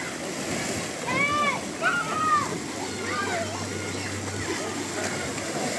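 Children sliding and splashing into an outdoor mineral spring pool in the Troyan Balkan mountains, water sloshing and splattering amid excited voices and squeals, with a steady background wash of moving water.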